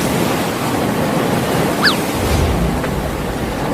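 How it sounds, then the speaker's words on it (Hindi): A steady, roaring rush of water fills the whole clip, continuous and broad like a strong current surging past, with no pauses. "बाढ़ का पानी बढ़ रहा है।"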